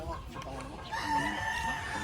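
Roosters crow amid clucking chickens at a cockfighting arena, a loud nearby cock-a-doodle-doo ringing out over the general fowl noise.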